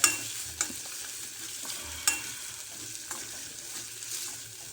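Raw peanuts sautéing in hot oil give a steady, close sizzle and crackle, broken by several sharp scrapes and clatters of stirring; no one speaks.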